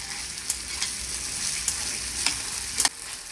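Meat, onions and peppers coated in tomato paste fry steadily in a pot, a soft continuous sizzle broken by several sharp scrapes and clacks of stirring, close by with no talking.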